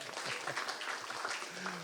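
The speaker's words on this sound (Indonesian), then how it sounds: "Tepuk tangan dulu dong buat bapak-bapak nih" Steady applause from a crowd fills the whole stretch, a dense wash of clapping with faint voices mixed underneath.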